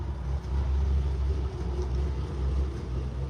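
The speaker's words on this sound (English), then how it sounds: "The car sounds good." A car engine runs steadily at idle, a low continuous rumble with slight pulsing, moderately close and without talk.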